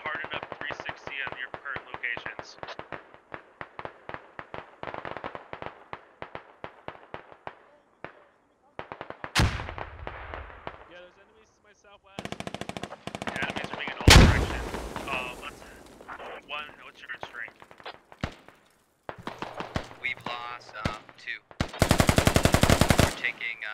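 Rapid automatic gunfire rattles in bursts in a military squad video game, followed by louder single shots and blasts and a final dense burst of fire, with talk over parts of the action.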